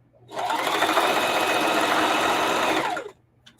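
A sewing machine stitching upcycled old clothes runs in one steady fast burst of about three seconds, a close rhythmic mechanical whirr that starts and stops cleanly, with a faint click after.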